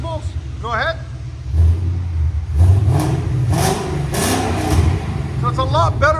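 A Ford Mustang GT 5.0L V8 with its exhaust valves closed revs in a few deep, muffled surges, close and fairly loud, with brief speech at the start and end.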